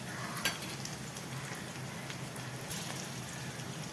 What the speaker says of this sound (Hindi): हरी मिर्च को हल्का सा तेल में भून लेना है